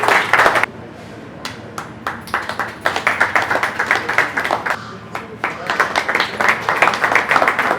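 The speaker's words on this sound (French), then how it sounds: "À la réception, quand même, il faut applaudir," Audience clapping at a jersey handover ceremony for local football clubs in Bunia, a ragged burst of hand claps that thins out briefly and then swells again, fairly close and steady across the crowd.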